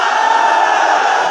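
A large rally crowd in Jhang, Pakistan, shouting together in a steady, loud, dense roar, with no gaps over a short stretch and no single voice standing out.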